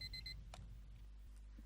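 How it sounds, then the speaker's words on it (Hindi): An alarm clock rings in a short burst of high, bright tones at the very start, then fades to a faint, quiet room. "जैसे कि हम सुन रहे हैं अलार्म की आवाज़"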